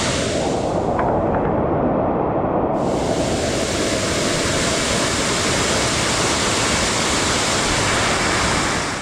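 A waterfall in Boa Nova National Park, Bahia, roars steadily and loudly up close, a dense unbroken rush of falling water that briefly sounds muffled at the start before opening up fully.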